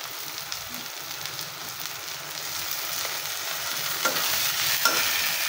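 Ginger-garlic paste fries with browned onions in a pan, giving a steady soft sizzle with occasional stirring scrapes, close and moderate, no talk.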